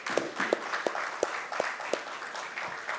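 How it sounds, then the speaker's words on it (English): Moderate audience applause in a hall at a defence and technology seminar session, a few distinct claps standing out over a steady patter. "Please join me in giving them a big round of applause."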